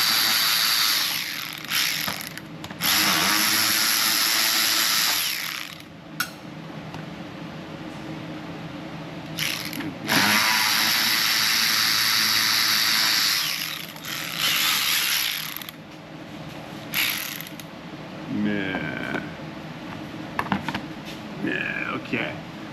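A power tool loosens the bolts of a skid panel shield in several loud, whirring bursts of a few seconds each, separated by quieter gaps with faint handling noises.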